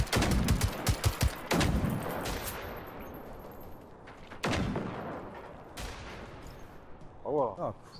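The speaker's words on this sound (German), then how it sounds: "Ah, cool, ein Schuss, ein Treffer." Several sharp gunshot blasts in the video game Generation Zero, with reverberant decays, spaced irregularly over a few seconds, followed by a brief voice near the end.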